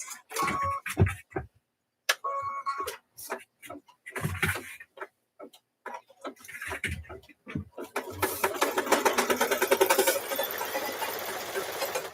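An embroidery machine stitches a thread-painted transfer design, producing a rapid steady mechanical clatter of needle strikes that builds in toward the end, close by, while people chat over it at first.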